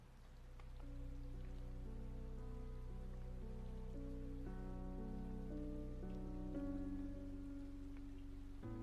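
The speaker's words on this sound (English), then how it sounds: "I'm all cold and alone out in the rain." Rain falls in a video game as a faint, steady patter that continues throughout, with sustained game music tones underneath.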